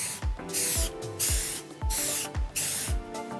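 Short aerosol spray bursts coat a white tile black, about six hissing passes in a steady back-and-forth rhythm, close and fairly loud.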